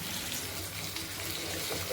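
Raw banana pieces are rinsed in water in a kitchen, with a steady close rush of running tap water splashing throughout.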